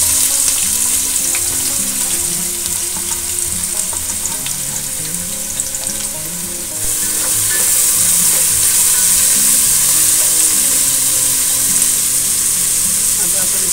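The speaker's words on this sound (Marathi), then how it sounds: "आता आपण कांदा शिजायला टाकलाय" Chopped onion and garlic fry in a pan with a loud, continuous sizzle and occasional stirring scrapes, and the sizzle grows brighter and stronger halfway through.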